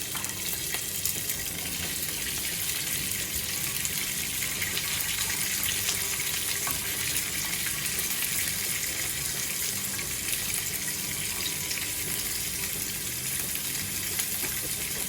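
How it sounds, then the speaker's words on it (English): Green beans and mushrooms sizzle in a hot skillet with a steady, dense hiss that runs unbroken and fairly loud throughout. "I'm going to carefully add the green beans, the skillet, and the mushrooms."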